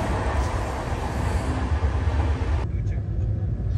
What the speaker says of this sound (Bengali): এখানে ট্রেন ছুটে চলেছে ট্রেনের মতোই